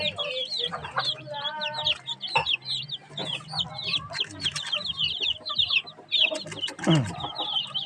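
Young chicks hatched in an incubator peep in a dense, continuous chorus of high chirps, close and busy throughout, with occasional louder clucking calls and brief rustling.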